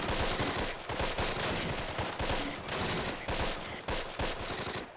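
Dense automatic weapons fire and rifle shots from the World War II strategy game Close Combat: The Longest Day, with bursts overlapping in a loud, continuous barrage that barely lets up.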